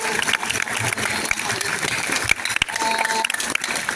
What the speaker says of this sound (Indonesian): Tepuk tangan sekali lagi untuk kelas yang ke-10.